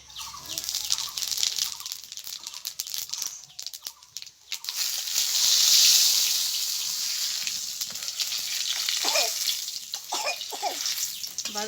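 Cumin seeds frying in hot mustard oil, a steady close sizzle and crackle that swells midway and continues throughout with no talk.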